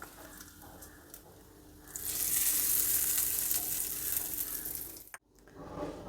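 Hot oil hisses and crackles loudly as curry leaves and dried red chillies hit the pan for tempering, the sizzle swelling after a quieter start and briefly cutting out near the end.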